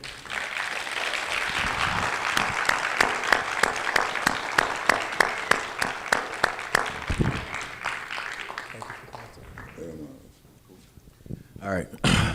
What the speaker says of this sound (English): please give a loud round of applause and respect to Mutabaruka.